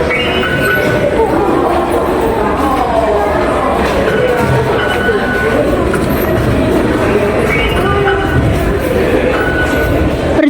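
A busy train station interior in Taipei, Taiwan, with steady rumbling and a continuous hum of crowd noise, occasional clinks, and faint voices in the background.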